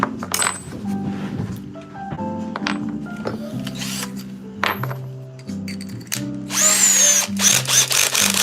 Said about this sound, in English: I'm going to tap this 1/4 20.